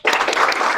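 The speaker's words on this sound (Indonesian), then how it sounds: "Tepuk tangan semuanya." Classroom students clapping together on cue in a religious studies lesson, a sudden dense burst of applause that starts sharply and holds steady and close for under a second.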